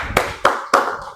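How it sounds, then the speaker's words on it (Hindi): Three sharp, loud hand claps in a classroom, evenly spaced about a quarter second apart, each with a short ringing decay in the room, with no talk. "क्या बात, ताली हो जाए।"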